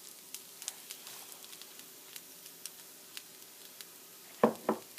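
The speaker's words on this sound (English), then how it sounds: "now I'm going to add our last vegetables, our broccoli, and our spinach" Broccoli and spinach dropped into a hot pan with carrots, giving faint crackling sizzle and scattered soft pops, then a sudden louder hiss near the end.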